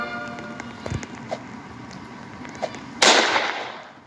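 Sniper gunfire in a video game: a few faint distant pops and thuds, then a loud close blast with a sharp crack that decays over the last second.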